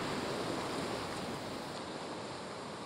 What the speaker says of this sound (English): The Natch is a two-part rapids.